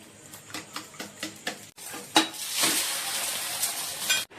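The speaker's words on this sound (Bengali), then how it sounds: "দুটো ডিম একবারে নিয়ে ভাজবো" Two eggs frying together in a pan in a home kitchen, a soft continuous sizzle with a few light scraping and utensil taps, close and moderately quiet, no talk.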